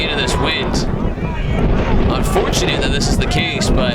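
Strong gusty wind buffets the microphone at an ultimate frisbee match, with a constant low rumble and roar, loud and continuous throughout.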